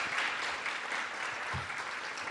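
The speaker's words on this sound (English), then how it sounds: "I would love it if we could all give a little applause for our teachers tonight" Quiet, steady clapping from a school audience at a poetry recitation evening, honoring teachers; soft and somewhat distant, with a few low bumps.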